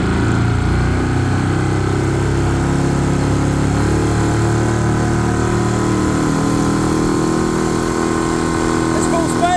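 Boat engine at full throttle, working hard to get the hull up on the plane, a loud, steady motor roar filling the whole stretch with no let-up, voices occasionally heard over it.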